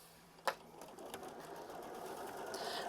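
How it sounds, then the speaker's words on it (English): A sewing machine starts with a click and then runs in a steady, gradually building hum, stitching a quilt block outline onto batting, close and moderately quiet with no talking. "we are going to hit start, we are going to sew, and that is going to stitch that outline for us"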